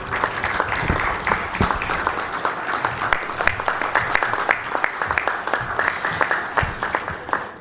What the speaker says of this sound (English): I request you all to a round of applause for our Honorable Chief Minister